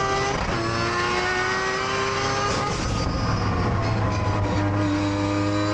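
Mazda RX-7 race car doing a burnout, its engine screaming at high revs with sustained rising and falling harmonic tones over gritty tire and exhaust roar, loud and close throughout.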